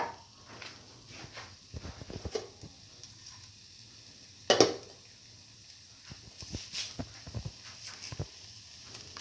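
Curry leaves dropped into hot oil for a soy chunk and fenugreek leaf noodle bowl, a faint sizzle with scattered scraping stirs and one sharp louder spatter burst midway, close and without talk.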